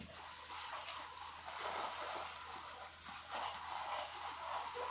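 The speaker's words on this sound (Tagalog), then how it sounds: "Pasiritan lang natin ng tubig yung ilalim ng mga dahon." Continuous hissing spray of water, steady and close, with a faint splattering texture as it hits the undersides of plant leaves.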